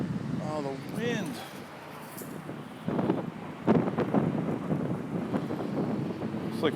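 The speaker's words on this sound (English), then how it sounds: "Oh, the wind." Gusty wind buffets the microphone outdoors during a drone flight near a roundabout, a rough low rumble that swells and drops in bursts beneath someone talking.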